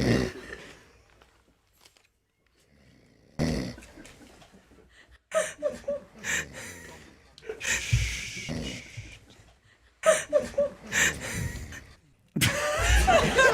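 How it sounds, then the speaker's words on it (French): Heavy snoring in loud rasping bursts separated by quiet gaps, close and uneven, with snorting breaths between. "Les ronflements que vous venez d'entendre vous étaient offerts"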